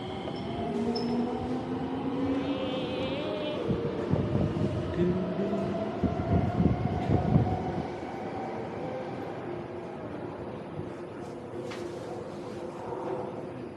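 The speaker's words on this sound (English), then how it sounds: "Wow, this is one of the newer trains." A Singapore MRT train rolls past on a metro line, a steady rumble of wheels and rail noise with squealing tones and a louder surge midway, heard close with no talk.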